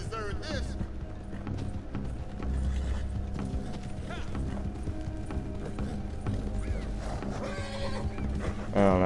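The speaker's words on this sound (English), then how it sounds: "But my horse is getting slow." A horse gallops with rhythmic clip-clop hooves and gives a whinny in Red Dead Redemption II, the hoofbeats steady and prominent beneath a voice.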